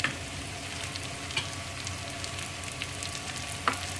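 Carrot and cabbage stir-fry in a pan for an Indian-style dish, giving a soft, steady sizzle with a few faint scraping stirs, fairly quiet and close with no talking.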